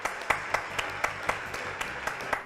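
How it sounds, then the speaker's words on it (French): A studio audience applauding on a French television show, heard as a steady run of rhythmic claps, roughly four per second, moderately faint with a soft wash of crowd noise beneath. "Applaudissements s'il vous plaît"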